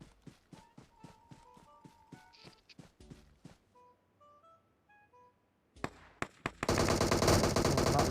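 Gunfire in the PUBG Mobile video game: a rapid burst of shots at the start, then a quieter stretch with soft tones, and finally a few sharp shots leading into dense, loud continuous firing.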